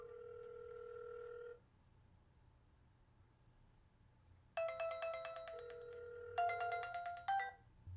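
A Samsung Galaxy Gear smartwatch plays a phone call ringing tone: a short steady tone first, then after a pause two quick bursts of a bright ringing melody, faint and clean with no talking.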